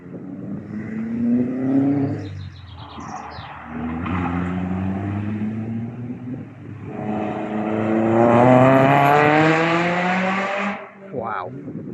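Vauxhall VX220 and Lotus cars lapping Cadwell Park on a track day, engines rising and falling through gear changes as cars approach and pass, with a loud climbing pull near the end and a brief tyre scrabble, heard from trackside.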